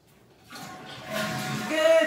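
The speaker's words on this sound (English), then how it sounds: "Close the toilet up. Good job. Oh my goodness. Now you flush." A household toilet flushes, its rush of water swelling louder and fuller over about two seconds, with a voice speaking nearby over it.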